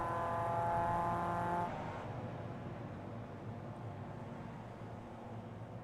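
Mazda MX-5 race car in iRacing at Charlotte Roval, engine droning at high revs and holding a steady tone before easing off into a rougher, quieter rumble as it runs down the back straight.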